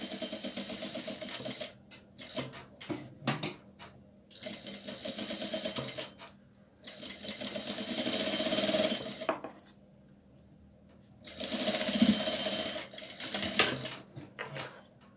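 A sewing machine stitches fabric around the edge of a Dora doll in quick bursts of rapid needle clatter, broken by short quiet pauses, close and fairly faint.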